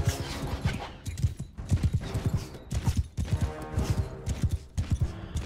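Horse hooves clip-clop steadily during a castle siege in the Mount and Blade Bannerlord video game, a busy close rhythm of thuds over a dense battle din.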